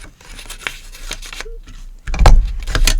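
Scissors cut through paper to round off the top of a gift envelope, with several short snips and crinkles close by that grow louder and rougher toward the end.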